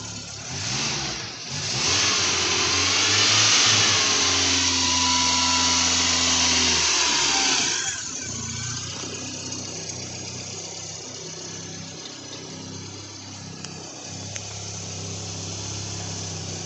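A 1990 Volkswagen Golf Cabriolet engine catches on a cold start, holds a loud, raised fast idle for several seconds, then drops to a steady, lower hum, close by with no talk.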